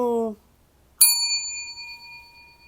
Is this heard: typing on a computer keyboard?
no